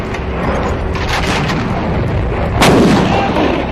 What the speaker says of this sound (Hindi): गोले गिराए जा रहे थे